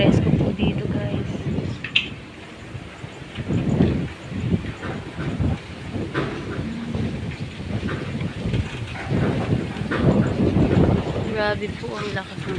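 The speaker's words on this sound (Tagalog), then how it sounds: "Grabe po ang lakas ng hangin." Strong wind sweeps across an open rice field, roaring and buffeting the microphone in heavy low rumbling gusts that rise and fall, while a person talks over it throughout.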